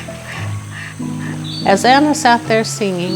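Small ducks quack in a quick cluster of nasal calls, fairly close and loud, over a steady musical backdrop, with a voice speaking at the start.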